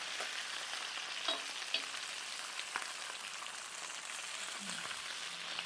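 Greaseless fried chicken cooks in an electric skillet with a soft, steady sizzle and scattered light crackles and pops.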